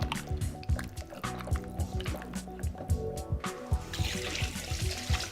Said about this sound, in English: Just gonna stir them in.